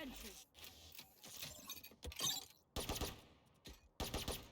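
Killjoy's automated turret firing in Valorant, a string of rapid clattering bursts broken by short gaps, mixed with other game sounds and a voice talking over the action.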